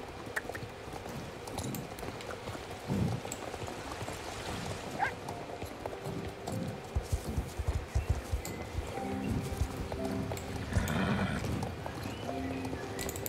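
Hooves clip-clop as a horse moves in the video game Star Stable, a rhythmic patter of steps under soft ambient game sound, with a brief whinny and light flowing water in the background.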